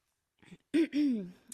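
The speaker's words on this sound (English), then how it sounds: "I'm so sorry I'm clearing my throat so much." A yoga instructor clears her throat a couple of times in quick, close bursts during a quiet hatha vinyasa class, with near silence around them.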